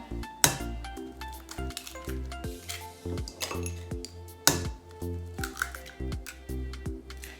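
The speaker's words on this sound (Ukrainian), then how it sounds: "Додаємо всі інгредієнти і перемішуємо." Cabbage fritter batter being mixed in a bowl, with clinking and scraping of a utensil against the bowl in irregular strokes and a few sharper knocks, close and fairly clear with no talking.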